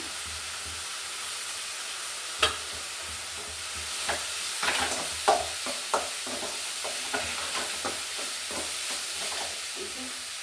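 Coconut with coriander and chilli powders fries in a pan, a soft continuous sizzle broken by scraping stirs and a few louder clinks of the spoon.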